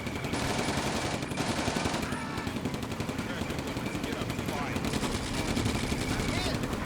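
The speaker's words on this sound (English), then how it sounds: "Just keep shooting the infantry." Dense rapid gunfire and machine-gun bursts from the war game Combat Mission rattle continuously at a steady loud level, with a person talking over the shooting.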